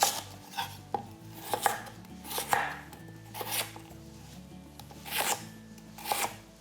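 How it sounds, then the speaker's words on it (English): A knife chops peeled beetroot into wedges on a board, giving about ten firm, near cuts at an uneven, unhurried pace, each followed by a short scrape, with no talking. "we're going to chop them into sort of 2 centimetre to 3 centimetre wedges"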